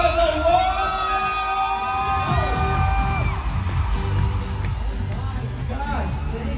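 A large crowd cheers and whoops at Acer Day inside Mall of Asia Arena, a dense, sustained roar with rising yells. A host's amplified voice talks over it.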